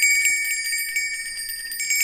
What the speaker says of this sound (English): I like my chimes